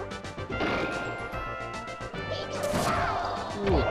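A forward smash hit in Super Smash Bros 64 lands with a loud crash amid busy game music and effects, during a Winners Finals tournament match.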